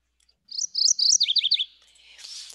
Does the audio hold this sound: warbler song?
yes